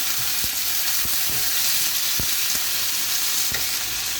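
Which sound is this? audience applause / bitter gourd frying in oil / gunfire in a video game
bitter gourd frying in oil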